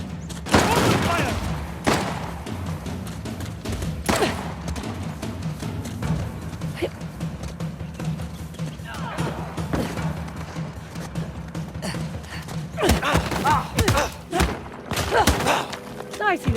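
Gunfire in Uncharted: The Lost Legacy, scattered loud shots and thuds spread across the stretch, some in quick clusters, over a steady low game hum with voices now and then.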